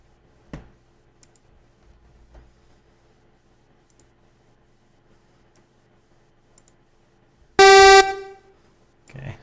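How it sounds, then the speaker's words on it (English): A synthesizer plays a short, loud, buzzing alarm-clock tone near the end, alone after a few faint clicks. "It's your alarm clock sound."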